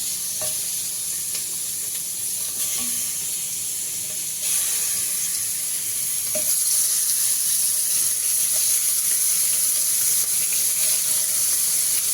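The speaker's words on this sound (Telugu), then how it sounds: "తక్కువ నూనెతో బాగా ఫ్రై అవుతుంది చికెన్." Chicken pieces fry in a small amount of oil in a pan, giving a continuous bright sizzle and crackle with occasional stirring scrapes, growing louder and fuller partway through, close up and with no talking.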